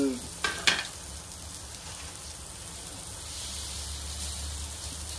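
Nang fish fries in a pan with a steady, fairly close sizzle, opening with a few sharp crackles and spits before settling into an even hiss.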